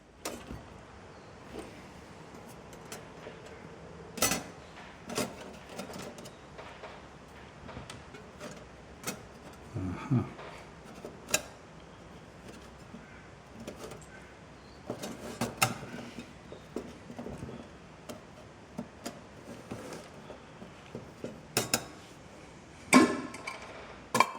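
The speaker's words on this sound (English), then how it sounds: "let the base plate drop down, then let the ash tray drop down" Metal parts of a compact Bushbox stove, base plate and ash tray, dropping and clattering into place on a table top, a string of faint, sharp metallic clinks and taps spread unevenly over a quiet background.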